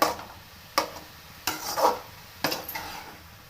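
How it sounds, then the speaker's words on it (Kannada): Toor dal leaf greens (palya) are stirred in a pan with a spoon, giving four or five scraping, clattering strokes at irregular intervals over a faint sizzle, close by and with no talking. "ಸೊಪ್ಪು ಇದು ತಿರುಗಿಸ್ಬೇಕು"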